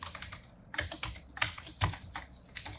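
Keys clatter on a Mac keyboard as a prompt is typed: irregular bursts of close, crisp clicks with short pauses between them and no voice.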